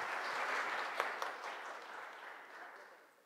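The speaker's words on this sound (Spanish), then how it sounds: "Muchas gracias, un aplauso." An audience at a community cellular telephony presentation in Oaxaca gives a round of applause, a soft, even patter of many hands heard from a distance that gradually fades.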